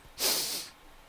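A single short sniff through the nose, close and fairly quiet, a brief airy rush with nothing else around it.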